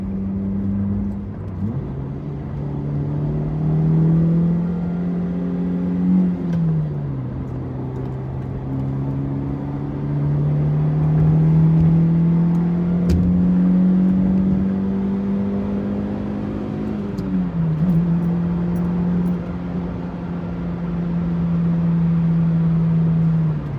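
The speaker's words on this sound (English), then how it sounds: "I was on the throttle for a while just to increase about 20 miles an hour." Car engine droning steadily while accelerating to merge onto an interstate, the pitch rising through gears with shifts dipping and climbing again, loud and continuous from inside the cabin.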